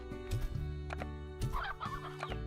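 Chickens cluck in short repeated bursts in the Slime Rancher video game, a steady fowl chatter over a low droning game-music background, with no talking.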